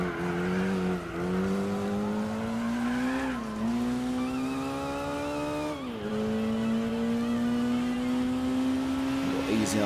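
A Mitsubishi Mirage racing in Gran Turismo 4 during a Japanese compact car race: a steady, loud engine drone climbs in pitch through the gears, dips briefly on shifts near two and six seconds, and carries faint tire squeal.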